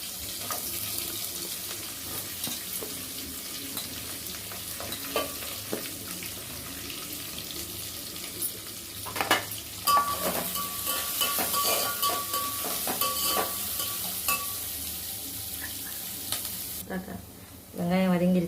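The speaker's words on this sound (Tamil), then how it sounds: "வெங்காயம் வதங்கிருச்சு" Onions sauté in oil with fennel seeds and bay leaf for mushroom masala rice, a continuous close sizzle broken by stirring scrapes and soft knocks, ending in a louder burst of frying.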